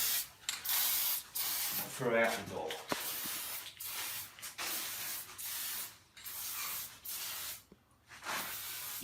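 Short hissing bursts from an aerosol oil spray aimed at garage door hinges and a torsion tube bearing, close by, repeated several times with brief gaps, someone talking between and over the sprays.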